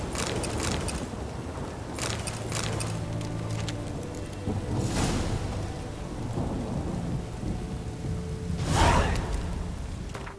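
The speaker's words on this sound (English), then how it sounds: "A storm, damn it." A thunderstorm with steady rain in the video game The Witcher 3: Wild Hunt, a continuous wash of rainfall with rolling rumbles of thunder and several louder cracks, the strongest near the end, no talking.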